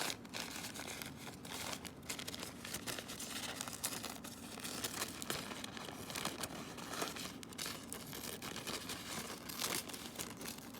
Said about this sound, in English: And maybe I'll cut this one up.